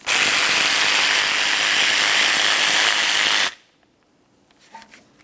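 A hand ratchet clicks rapidly and continuously, loud and close, as it backs out a small 10mm bolt holding the ABS sensor to the front steering knuckle of a 2003-2007 Honda Accord, then stops abruptly, leaving near silence.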